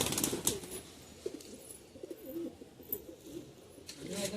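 A flock of about 25 pigeons kept by a pigeon keeper coos softly and repeatedly nearby, with intermittent bursts of wing flapping breaking through the quiet.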